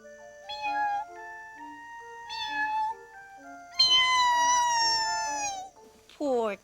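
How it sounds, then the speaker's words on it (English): A cat meows several times, clear and close, with long drawn-out harmonic cries rising and falling, the last one sliding sharply downward. "A cat was sitting near the hut."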